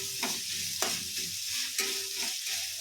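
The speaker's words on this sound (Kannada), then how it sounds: "ಜೀರಿಗೆ ಹಾಕಿ ಚೆನ್ನಾಗಿ ಫ್ರೈ ಮಾಡ್ಕೋಬೇಕು" Garlic, tomato and cumin fry in a pan with a steady sizzle, broken by a few sharp stirring scrapes of the spatula, close and moderately loud, with no talking.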